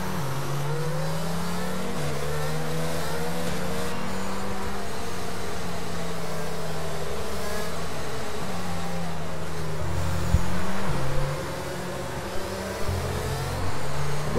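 A race car engine in a Formula-style racing video game at the Singapore Grand Prix drones steadily with shifting pitch, a sustained loud whine that rises briefly near the end, with no talk over it.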